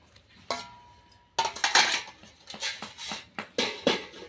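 A spoon or ladle clatters against a pot while fried brinjal is stirred into a curd curry, giving irregular metallic scrapes and knocks that come in quick clusters, close up and with no talk.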